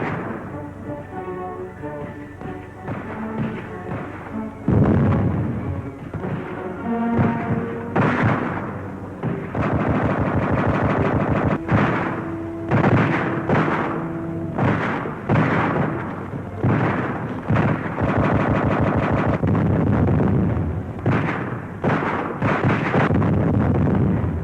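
Spanish Civil War battle footage soundtrack with loud, sustained gunfire and booming blasts layered over dramatic orchestral music, dense and continuous throughout with no voices.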